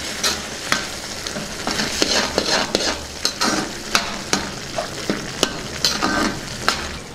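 A spiced green pea and pool makhani curry is stirred in a pan after coriander powder, garam masala and chilli powder go in, a steady sizzle broken by regular, sharp scrapes of the spoon, close and fairly loud with no talk.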